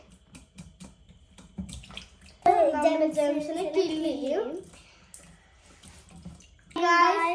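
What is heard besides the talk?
washing grapes in water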